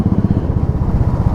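A BMW superbike engine rumbles loud and close, with a deep, throbbing pulse that stays steady throughout.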